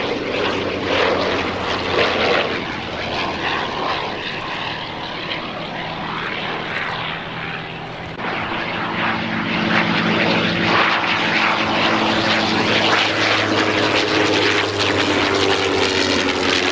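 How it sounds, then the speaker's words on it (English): A Bristol F2B Fighter biplane at an air pageant flies past with a loud, steady engine and propeller roar that swells and shifts in pitch as it passes, sustained throughout, no voice. "for a full stop landing, John Hurrell, ladies and gentlemen, in the Bristol F2B fighter"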